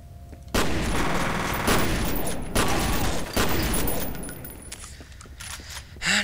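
Gunfire bursts in the horror shooter F.E.A.R., several loud volleys in a row with brief gaps between them and rattling debris underneath.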